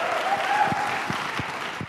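A church congregation claps together during a Tagalog sermon, a steady wash of applause with a few sharper individual claps standing out, no talk over it.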